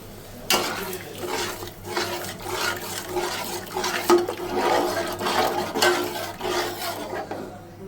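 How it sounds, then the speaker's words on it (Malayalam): A large pot of fish head curry made from a six-kilo amur (grass carp) head, with turmeric, curry leaves and kudampuli, bubbles at a rolling boil. Uneven watery gurgles and surges come close up, with no talking. "കറി നല്ല വെട്ടി തിളച്ചിട്ടുണ്ട്."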